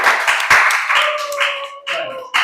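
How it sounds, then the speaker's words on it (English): A classroom round of applause for a student debate team: a short burst of clapping from a small group, close and uneven, with voices and a sustained tone mixed in. "Give them a round of applause"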